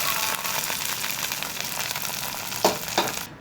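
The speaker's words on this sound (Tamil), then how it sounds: "இந்த மாதிரி தாளித்து ஊற்றிக்கணும்." Hot tempering is poured into melagu pongal, giving a continuous close sizzle and crackle with two sharper bursts near the end, and no talking.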